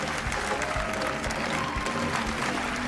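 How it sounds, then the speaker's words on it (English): Audience applause breaks out at a televised magic competition just after a handkerchief-and-knots trick, a steady dense roar of many hands clapping that stays loud and unbroken throughout. "Big applause"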